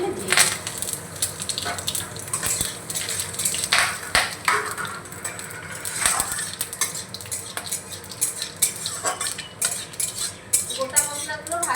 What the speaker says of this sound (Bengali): এই গোটা মশলাগুলো এখন তেলের মধ্যে আমি দিয়ে দেব